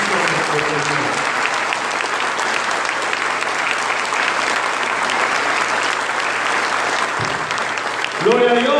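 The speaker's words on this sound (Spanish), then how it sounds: "Y le damos un fortísimo aplauso a Jesucristo nuestro Señor." A church congregation claps loudly and steadily for several seconds at a religious service, with voices speaking over the applause at the start and end.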